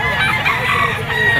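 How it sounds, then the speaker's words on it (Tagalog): A white-legged Boston Sweater stag rooster crows close and loud, one continuous hoarse, strained call filling the whole short moment, with no talk over it. "isang Boston sweater na white legged bull stag dito mga tol"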